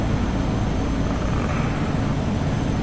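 Turboprop engine of a Real Air Duke Turbine in the FSX flight simulator, a steady, loud, broadband whine and roar droning without a break, no voices over it.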